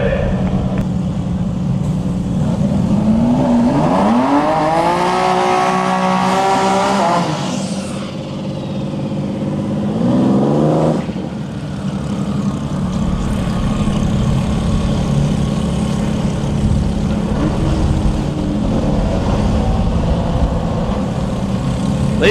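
GTR Unlimited drag race cars at Bradenton Motorsports Park roar loudly, with engines revving and sweeping up in pitch as they launch and pass, then idling rumble, amid crowd and announcer chatter.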